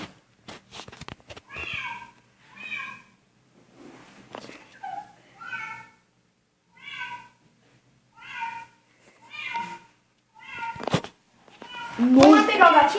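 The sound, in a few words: kitten meowing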